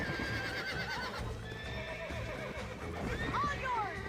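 Horses in the video game Red Dead Redemption whinny loudly while hooves clip-clop during a horse-breaking scene, with a voice talking throughout.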